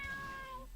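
A cat meows in the video game Bogus Journey, one short tonal call alone, fairly quiet.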